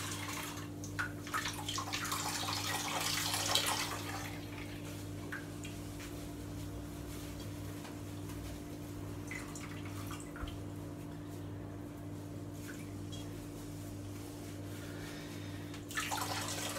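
Warm water is pushed through spent brewing hops and drips and trickles into a vessel, with a louder splashing burst early on, then steady soft dripping over a constant low hum, ending with another brief splash.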